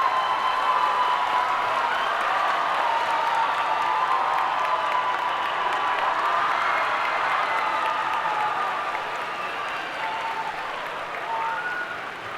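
Sustained applause from a large audience at a graduation recognition ceremony for dual enrollment graduates, a steady dense wash of clapping that holds for the whole stretch and eases slightly toward the end.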